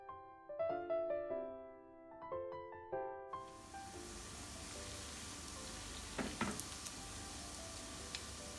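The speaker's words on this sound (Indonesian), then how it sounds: "Lalu digoreng sisanya sampai habis" Keciput dough balls fry in hot oil with a steady, fairly quiet crackling sizzle that starts after a few seconds of plucked music and continues to the end.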